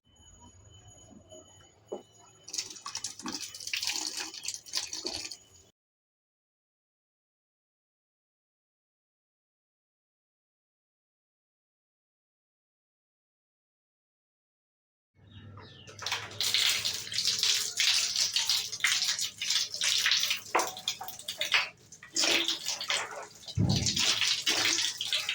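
Tap water runs and splashes into a sink during face washing, loud and close in two long stretches separated by about ten seconds of silence, with no talking.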